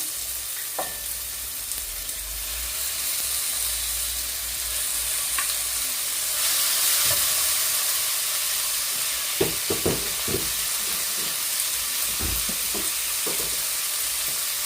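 Prawns sizzle steadily in a hot pan with tomatoes for a prawn and eggplant gravy, with a constant frying hiss and scattered clinks and scrapes of stirring toward the end, no talk.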